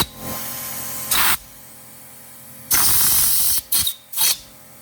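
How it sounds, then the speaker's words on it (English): Compressed air from a shop airline blasts into an engine stud hole in several sharp bursts, two long hissing blasts and a few quick short puffs separated by quiet gaps. "So we're gonna grab the airline, get that thing blown out"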